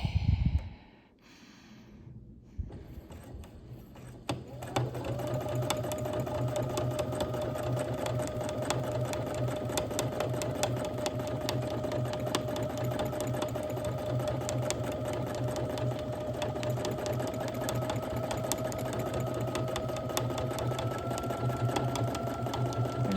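Sewing machine free-motion quilting a stippling pattern, starting after a brief pause and then running in a steady, close, fast mechanical whir with rapid needle ticking, no voice over it.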